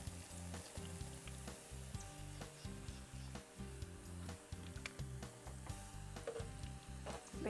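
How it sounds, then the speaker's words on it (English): Food frying in a pan, five or six pieces at a time, with a steady close sizzle and intermittent light scraping and tapping of a utensil, no voices. "We want to probably fry about 5-6 of them at a time."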